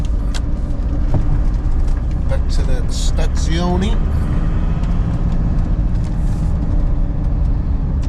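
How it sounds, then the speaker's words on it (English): Road traffic near a busy Yorkshire train station around 6:30 rush hour, a steady broadband hum of passing cars and other vehicles with a brief rising engine tone, heard throughout under someone talking. "See how we're looking in at the back end of rush hour traffic."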